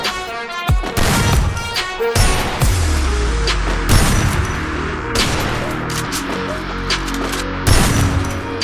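Rapid gunfire from the Free Fire battle game, a dense run of sharp shots and bursts with booming impacts, loud and continuous throughout with no talking.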